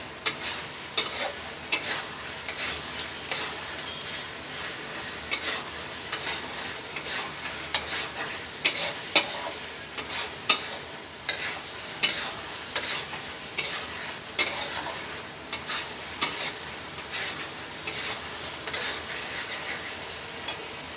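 Chicken frying in a pan with ginger-garlic water, before turmeric or chilli powder goes in: a steady close sizzle broken by regular stirring scrapes and clacks, with no talking.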